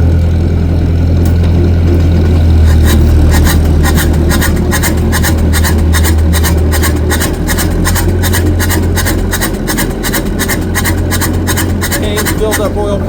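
The pony motor on a John Deere 830 Industrial tractor runs with its compression release pulled back, a loud, close engine drone broken by rapid, even mechanical clatter that settles into a steady rhythm.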